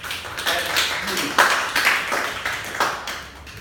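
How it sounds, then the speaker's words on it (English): A career day audience gives a student a round of applause, with a short burst of scattered clapping from a small group, mixed with brief voices. "Give her a round of applause."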